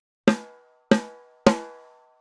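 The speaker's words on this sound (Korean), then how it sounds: "자, 이번에 림샷 해볼게요" Three sharp snare rimshots, evenly spaced, each a bright crack with a ringing metallic overtone that fades quickly.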